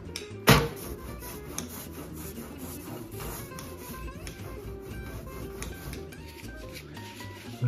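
Ink being worked thickly over a mezzotint printing plate, a steady dry rubbing and scraping texture that runs on without pause, fairly quiet and close, with no talking.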